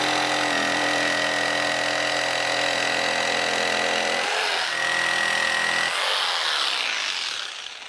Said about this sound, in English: Get the saw and just chop down there.